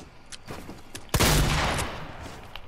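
A shotgun fires in the Fortnite video game, one sharp, loud blast with a short decaying tail, set among faint lighter in-game clicks and noises.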